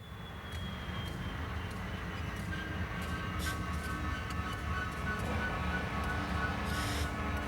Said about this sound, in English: the train will back up and align the first car for loading